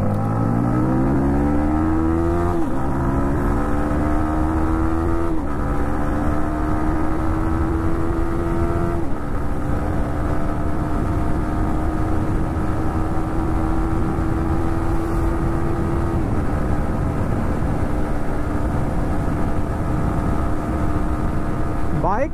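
A Yamaha MT15 motorcycle fitted with a new chain sprocket climbs uphill, its engine note rising steadily through each gear with brief dips at the shifts, loud and close for the whole stretch.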